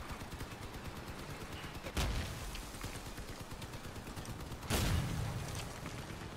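Vehicle-mounted guns in the video game Crossout firing at an enemy car near a pump jack: rapid continuous machine-gun rattling broken by two heavier booming blasts a few seconds apart, with no voices.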